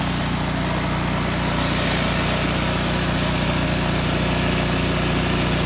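A pressure washer drives a rotating surface cleaner attachment over a hard surface, producing a loud, continuous high-pitched engine whine and hiss that holds steady throughout.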